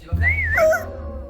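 A person vocally imitates a dog whimpering after its paw is stepped on, producing a single high, wavering whine that rises and falls, close and fairly loud over a low background hum.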